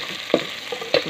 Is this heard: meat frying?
yes